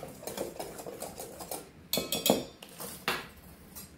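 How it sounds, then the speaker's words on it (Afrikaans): A whisk clatters against a bowl as a salted mixture for a South African cream milk tart is beaten, with a fast, uneven rhythm of close, sharp clinks and scrapes. "En dan gaan ons dit deurklits"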